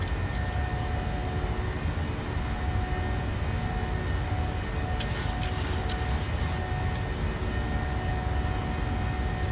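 Simulated airliner engines at climb power, a steady broadband roar with a faint sustained whine, heard from inside the cockpit with a few brief ticking clicks partway through.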